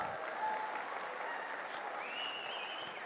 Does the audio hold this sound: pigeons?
no